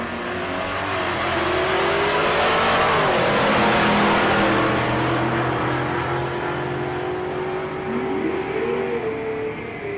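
A turbo LS-powered C10 and a 4th-gen Camaro drag race at Tulsa Raceway Park, engines roaring loud and sustained with rising and falling rev pitches across the run, no talk over them.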